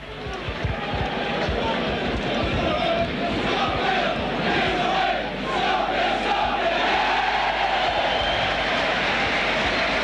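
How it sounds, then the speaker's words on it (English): A rugby league crowd at Headingley in Leeds sings and roars after a try, a dense distant mass of voices that stays steady and loud throughout. "That's got the crowd singing here at Headingley."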